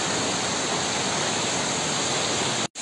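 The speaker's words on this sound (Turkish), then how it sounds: "buradan böyle şelaleye su akıyor" Water pours into a waterfall at Saklıkent in Muğla, Turkey, making a loud, steady roaring rush that cuts off abruptly just before the end.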